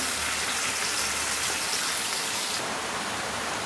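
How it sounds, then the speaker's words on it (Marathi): Heavy monsoon rain pours down outside in a dense, steady hiss of drops, loud and unbroken, with no voices. "आता बाहेर भरपूर पाऊस पडते धुवांदार त्याचासुद्धा तुम्हाला आवाज येत असेल व्हिडिओमध्ये"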